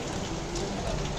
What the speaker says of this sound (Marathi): हो अचानक पाऊस चालू झालाय